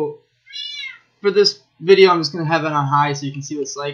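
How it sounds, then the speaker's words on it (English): A pet cat meows in the background, a short high mewing cry heard early on before someone speaks steadily over it in a room near a gaming console. "And that is my cat in the background."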